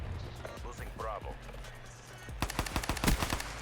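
A rapid burst of automatic gunfire rattles in a shooter video game, coming in quick repeated shots after a stretch of talking and quieter game sound.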